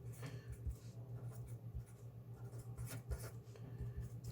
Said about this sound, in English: let's just write that manually